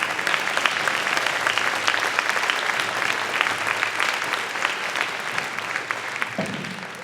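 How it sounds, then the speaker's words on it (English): Sustained applause from an audience at a junior high school retirement concert honoring program supporters, steady dense clapping throughout with a slight fade near the end. "So let's give a big round of applause for all those people."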